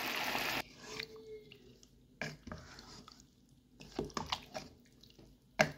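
Tomato sauce is poured and stirred into a pot of beans and tripe, with wet sloshing, scraping of a utensil against the pot, and soft knocks close by.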